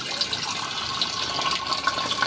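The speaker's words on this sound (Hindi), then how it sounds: "वही पानी इसमें भर दीजिए।" Filtered RO water pours steadily into a clay matka, a continuous close splashing and gurgling fill with no talk over it.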